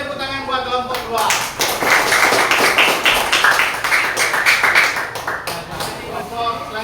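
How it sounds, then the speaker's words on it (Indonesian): A classroom group claps for group 2 after its presentation, a burst of scattered, moderately loud handclaps that builds and then trails off, with voices talking over it. "boleh tepuk tangan buat kelompok 2"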